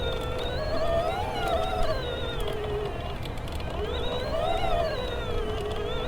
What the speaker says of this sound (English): you can hear kind of the whine of the motor there a little bit